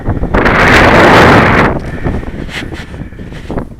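Wind gusting across a model aircraft flying field, a loud rushing blast buffeting the microphone for over a second, then easing into softer, uneven gusts.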